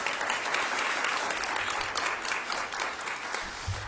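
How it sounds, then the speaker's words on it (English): An audience at a university gift announcement event gives a round of applause, many hands clapping in a full, lively burst that holds steady across the moment. "So can we please have another round of applause?"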